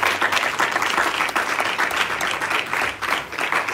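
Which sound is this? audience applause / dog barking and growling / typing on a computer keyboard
audience applause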